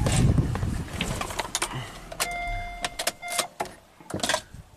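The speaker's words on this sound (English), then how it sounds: "So let's shut the vehicle off." An Acura car engine shuts off: the idling rumble drops away close by, followed by a few clicks and short electrical whirs inside the vehicle.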